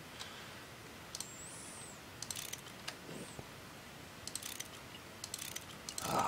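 Blocks being wrenched apart in modded Minecraft 1.5.2, heard as a scattering of short mechanical clicks and ratchet-like ticks spread irregularly over a low, steady background, fairly faint and with no talking.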